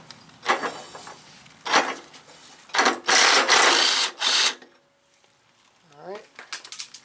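An impact wrench or similar power tool loosens and zaps off a lawn mower blade. It gives several short, loud bursts of whirring and rattling, separated by pauses, and ends with a few quick clicks and light metallic handling sounds.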